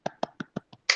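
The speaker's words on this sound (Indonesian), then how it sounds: "Tepuk tangan dulu dong." A handful of crisp, evenly spaced hand claps sound close up in a quiet podcast studio, five quick strikes ending in a brighter burst.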